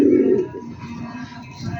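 Bluebar pigeons coo in their cages, a loud throaty burst up close followed by softer murmuring coos continuing in the background.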